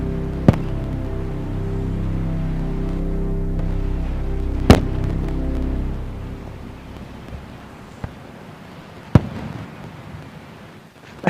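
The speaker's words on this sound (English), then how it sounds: "I like the comparison of like the consumer fireworks on the beach, where it's like pew pew." Fireworks burst over the beach at a Starbase Fourth of July celebration, four or five sharp, loud cracks spaced out over a long, low rumble that fades toward the end.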